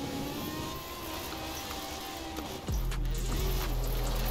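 A Lancia Delta S4 rally car engine in Forza Horizon: a steady, droning drive note that drops with a gear change, then settles into a lower, louder, sustained tone.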